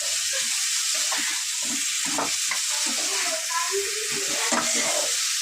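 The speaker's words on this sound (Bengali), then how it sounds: "মশলার সাথে সুন্দর করে কষিয়ে নেব" Curry is sautéed with spices in a pan being used for cooking curry for the first time. It gives a continuous, close sizzle broken by soft scraping stirs, with no talking.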